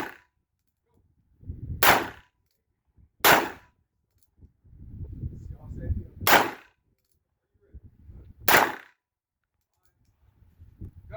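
Four loud, sharp rifle shots from a Remington M700 in .30-06 ring out a couple of seconds apart at a cold outdoor range, with quiet talk and rustling between them.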